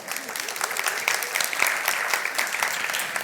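An audience at a public speaking event claps steadily for several seconds, a dense, even patter of many hands at moderate distance.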